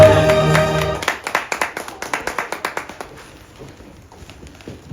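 Short burst of audience applause at an embassy gathering, a run of sharp rhythmic claps that fades out over a few seconds, with a loud held tone just before it.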